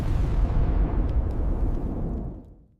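A deep, rumbling explosive roar from the Apollo 11 service module separating, loud and sustained at first, then fading away over almost three seconds.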